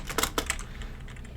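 Quick bursts of typing on a computer keyboard, a handful of sharp close key clicks in the first half that thin out into fainter scattered taps, with no talking.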